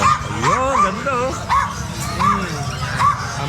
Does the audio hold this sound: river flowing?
no